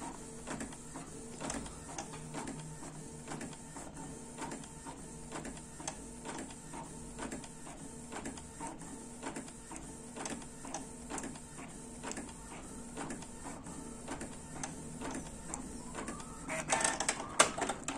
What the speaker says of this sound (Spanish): y ahora estoy imprimiendo